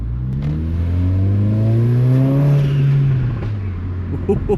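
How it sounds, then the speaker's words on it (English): Mercedes-AMG four-cylinder turbo hatchback with 4MATIC all-wheel drive revving up close and loud, engine note rising and falling smoothly over several seconds, ending with a few short exhaust crackles and pops. "there was a little crackle, pop bang in the exhaust"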